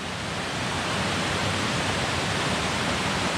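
Meadow Creek Falls in Wayne County, Kentucky pours in a steady, full rush of falling water, heard close and continuous with no talking.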